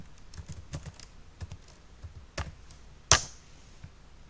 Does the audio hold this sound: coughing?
no